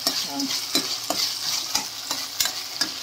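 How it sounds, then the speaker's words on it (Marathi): Onion is stir-fried in a pan for pasta, sizzling steadily beneath repeated spatula scrapes and taps at an uneven rhythm. The sound is close and moderately loud, with no talking. "चांगलं शिजून घेऊया कांदा वगैरे"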